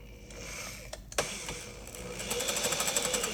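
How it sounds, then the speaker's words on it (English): An electric drill starts up after a few clicks, whirring with a rising, pulsing buzz as the bit begins biting into wood. "All right, now we're ready to drill a hole."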